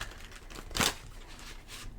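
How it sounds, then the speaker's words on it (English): A deck of tarot cards being shuffled on a table during a quiet ASMR reading: a single short, crisp riffling burst up close midway through, with faint low rumble and soft hiss around it and no voices. "If you hear the table shaking, I'm sorry, it's because I'm shuffling the cards."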